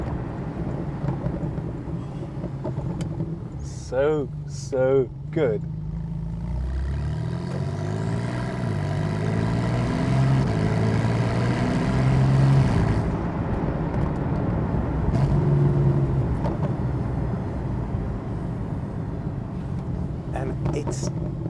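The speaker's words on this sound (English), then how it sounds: "that burble and that sound from that sports exhaust is something else." Exhaust burble from a Porsche 991.2 Carrera GTS sports exhaust, driven gently through an old English village. A low, rumbling engine drone runs throughout, sometimes rising, under someone talking.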